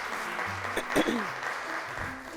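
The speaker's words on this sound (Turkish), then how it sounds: "Alkışlıyoruz arkadaşlarımızı" Applause from a small group, fairly steady clapping with a few louder bursts, lasting a couple of seconds.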